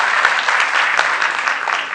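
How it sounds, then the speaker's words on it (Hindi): An audience at an award ceremony applauds a recipient with steady, close, energetic clapping that carries on evenly for the whole brief stretch. "इनके लिए भी आप तालियां बजाइए."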